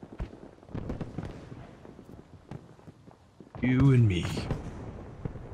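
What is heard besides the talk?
rockets fired and exploding in a video game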